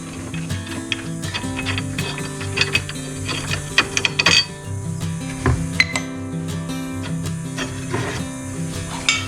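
A 12 mm socket ratchet wrench turning a bolt on the strut bar of a 2021 Kia Stinger 2.0L GT-Line, giving a steady close run of rapid metallic clicks with a few sharper knocks.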